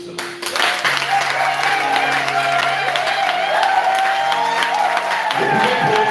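Audience applause at a church service, a steady wash of clapping throughout with sustained tones from an organ or singing underneath, fairly loud and continuous.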